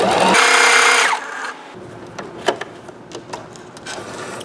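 A sewing machine stitches a test sample with a loud, steady whirring run that lasts about a second and then stops abruptly, followed by quieter handling clicks and rustles.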